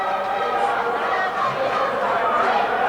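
A crowd fills Hunt Arena during a high school hockey game between RFHS and Eau Claire North. The murmur and chatter stay steady, with scattered shouts rising now and then.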